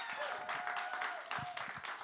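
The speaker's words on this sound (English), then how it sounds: "Now, please help me give another round of applause for Nigel, guys." A fairly quiet round of audience applause at a New York Fashion Week event, with scattered claps and a faint background tone running through it.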